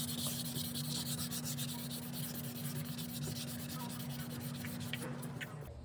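Steady, close rubbing of sandpaper over filler on a hot tub's surface, a continuous gritty scrubbing with an even level and a faint constant hum underneath.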